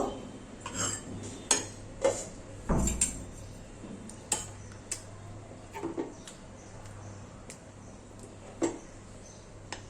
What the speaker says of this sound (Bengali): এবার আমি ঢাকনাটা খুলে সার্ভ করে দেব।